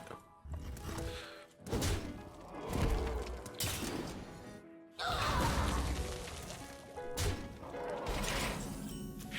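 Harpoon Gun card effect in the Hearthstone digital card game: a run of loud, heavy impact crashes and thuds with mechanical clanks and whooshes, several hits spread across the stretch, with a faint voice underneath.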